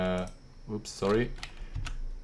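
Computer keyboard key presses while working in After Effects: a few faint, scattered clicks heard under a man's close, continuous speech.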